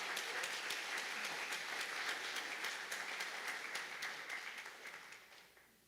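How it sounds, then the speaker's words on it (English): Applause from the audience at a college graduation ceremony, steady dense clapping heard from a distance that gradually tapers off toward the end. "Let us give him another round of applause."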